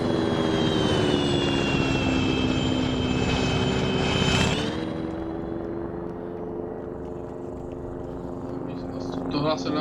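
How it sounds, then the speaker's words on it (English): A helicopter in a military-style video game flies overhead with a loud, steady droning engine whine and rotor hum that drops in pitch and fades slightly as it passes, continuous throughout. "Oh, it's a helicopter."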